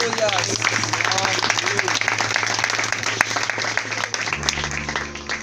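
A church congregation claps and applauds steadily throughout, loud and sustained, with a low organ-like tone droning underneath and voices mixed in.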